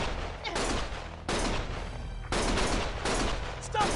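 Heavy gunfire in the video game Lost Judgment, three sustained loud bursts of rapid shots separated by brief gaps, with no speech over the firing.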